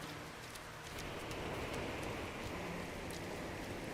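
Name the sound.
superheated rainstorm in a video game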